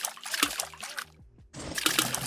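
Salt water trickles and splashes into a cup in short bursts, pausing briefly in the middle before a louder pour resumes, close and clear.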